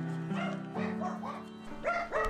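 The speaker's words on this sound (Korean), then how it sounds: "유독 우리를 반기는 강아지" A dog at a kennel shelter greets volunteers with a quick string of short yips and barks mixed with whiny notes, close and fairly clear, in several bursts with brief gaps.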